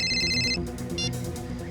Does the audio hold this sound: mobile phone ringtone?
yes